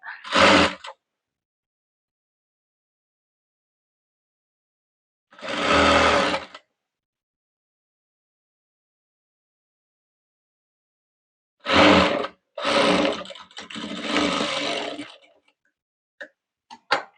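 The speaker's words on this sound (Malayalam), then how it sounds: "അത് ഇതേ ഫോൾഡ് ചെയ്തിട്ട് ഇങ്ങനെ അങ്ങ് തയ്ക്കുക" An electric sewing machine stitching a modern designer choli blouse with pattern work runs in separate bursts: a short run, a longer one, then several closely spaced runs near the end, with no talking.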